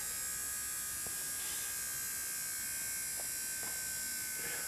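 An electric motor on a split-battery rig spins at 4,700 RPM, a steady high whine and buzz running unbroken and fairly faint throughout, with no voices.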